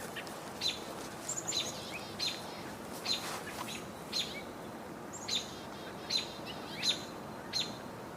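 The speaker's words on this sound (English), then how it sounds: "Just heard a chickadee." Chickadee calling outdoors, a series of short, thin, high chirps repeating every second or so at moderate distance over a steady background hiss.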